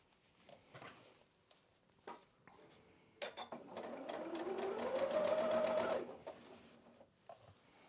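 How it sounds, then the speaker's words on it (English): Sewing machine stitching a snowman quilt block, a steady whirring run of rapid needle strokes for about three seconds that rises in speed, with lighter handling clicks and rustles of fabric before and after. "So we're going to sew this together."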